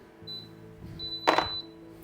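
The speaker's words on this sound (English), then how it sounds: "Now that's the sound of the pressure cooker starting" An Instant Pot pressure cooker chimes as it starts a high-pressure cycle, giving a thin electronic tone that sounds twice, then a louder brief burst near the end over a quiet kitchen hum.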